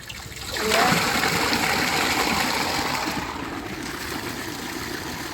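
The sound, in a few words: water filling a container from a tank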